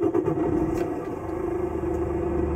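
Mercedes Actros MP4 truck engine in Euro Truck Simulator 2 starting up, settling into a steady, loud low-pitched rumble that carries on alone for a few seconds.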